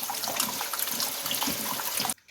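Water poured into roasted chana dal in a pot makes a steady close splashing rush that cuts off abruptly just before the end.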